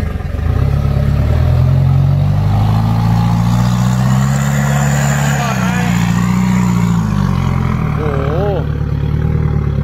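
A vehicle engine revs hard and loud in second gear, a steady droning roar that rises and falls in pitch over several seconds, with people talking over it.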